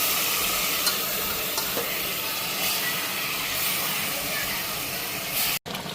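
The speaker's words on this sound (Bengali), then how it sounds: "আর আলুগুলিও একবারে মশলার লগে মাখা নিচ্ছি।" Potatoes coated in spice masala sizzle and get stirred in a pan, a steady close frying hiss with occasional spatula scrapes, cut off by a brief dropout near the end.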